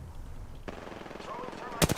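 Gunfire in the video game New World: a low thump, then a faint rattle, and a sharp loud burst of automatic shots near the end, with game sounds in the background.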